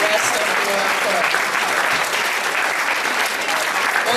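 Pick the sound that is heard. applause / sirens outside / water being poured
applause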